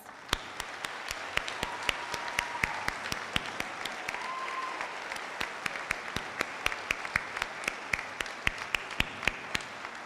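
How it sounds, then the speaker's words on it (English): Audience applauding military veterans and service members as they stand at a community salute to service, a steady wash of clapping with sharp individual claps popping out, sustained throughout at moderate distance. "Let's give them a round of applause."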